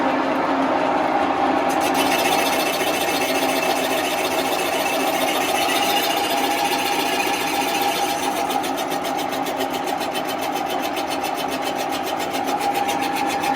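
A cylinder boring machine's spindle running steadily for a long stretch, giving off a continuous loud mechanical whine and rapid buzzing chatter, with a slight change in tone partway through and no talking.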